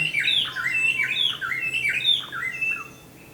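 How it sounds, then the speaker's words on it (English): Several small birds chirp and tweet in quick repeated bursts at morning, fairly close and clear over a low steady background hum, fading toward the end. "Those are the birds that wake me up every morning"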